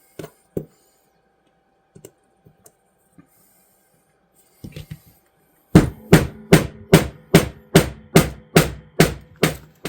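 A hammer drives a punch down onto an anvil while vintage Camillus knife sheaths are being made, striking about a dozen loud, evenly spaced metallic blows in a steady rhythm after a few scattered quieter taps.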